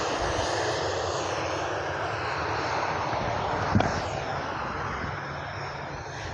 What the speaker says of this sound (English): you can definitely hear it. It's speeding up a bit. There we go. Ryanair 737-8.